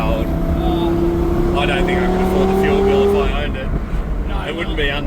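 A car driven hard holds a sustained, rising engine rev that swells for a few seconds before easing off, with people talking over the steady road noise.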